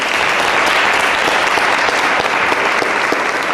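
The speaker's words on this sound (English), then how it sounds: "Round of applause for Paul." Loud, dense audience applause at a community gathering, a thick unbroken wash of many hands clapping close by and sustained at full strength throughout.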